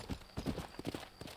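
Horse hooves clip-clop in a steady uneven rhythm through the Western game Red Dead Redemption, close and moderately loud, with soft game ambience underneath.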